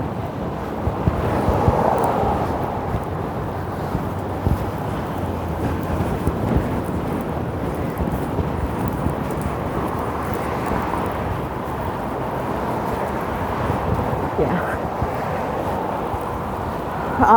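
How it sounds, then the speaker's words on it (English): Strong wind gusts across a microphone beside a lake on a February walk around a pond, a loud, continuous low rumbling buffet that swells and eases without other distinct sounds. "the wind is just blowing my gimbal around"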